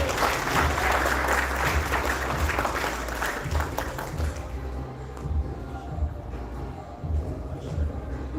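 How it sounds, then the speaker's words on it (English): Applause at a benefit dinner, a room of guests clapping loudly at first and then thinning to scattered claps with background murmur. "Another big hand of applause to him."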